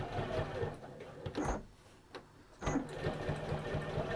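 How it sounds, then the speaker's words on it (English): A sewing machine top stitches a layered fabric luggage tag in short rhythmic runs, its quiet close mechanical chatter broken by a couple of brief pauses and handling clicks. "And if you've pressed this nice and flat, then it'll just stitch beautifully."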